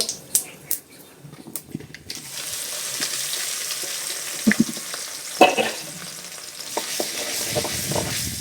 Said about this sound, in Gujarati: આપણે આમાં રાઈ નાખી હવે જીરું હિંગ નાખી દઈએ આમાં મરચાની કટકી